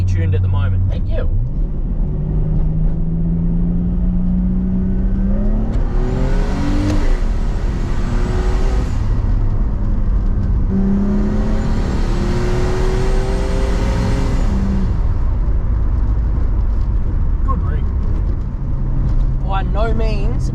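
A turbocharged RB30 engine in an R31 Skyline with a metal head gasket and 8-to-1 compression revs up through gears while driving, rising and falling loudly from inside the cabin, with people talking over it.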